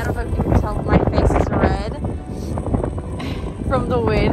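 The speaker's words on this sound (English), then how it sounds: "It is extremely windy out." Strong wind blows across an exposed hilltop in Glencoe, Scotland, buffeting the microphone with gusty rumbling under someone talking throughout.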